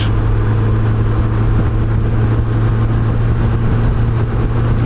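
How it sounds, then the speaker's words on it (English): Steady, loud broadband rush of wind on a heavy BMW K1200LT touring motorcycle at speed, with a low engine drone running beneath it throughout, continuous and close with no talking. "There's a lot of wind noise"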